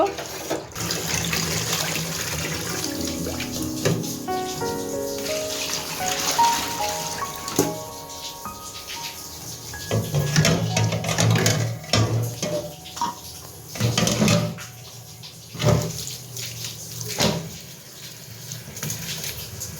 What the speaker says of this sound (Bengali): এখন কিন্তু আমি এই যে কচুর মুখিগুলো ভালো করে পরিষ্কার করে ধুয়ে নিব